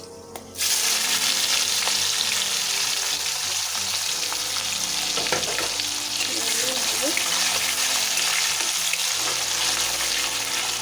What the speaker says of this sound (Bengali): লাল লাল করে ভাজা হোক।